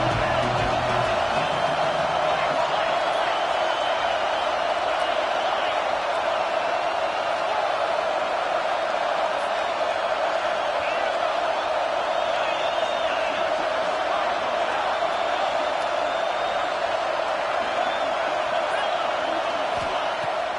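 Steady roar of a stadium crowd in the NCAA 26 college football video game, Auburn vs Notre Dame, holding a constant, dense wash throughout under game commentary.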